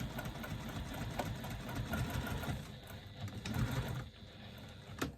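A sewing machine stitches fabric lining and exterior together with a steady, close mechanical whirr of rapid needle strokes, running continuously with slight surges and dips.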